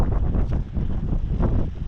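Strong wind blusters outdoors near a garden plot, buffeting the microphone with loud, continuous low rumbling gusts that swell and ease, with no voices.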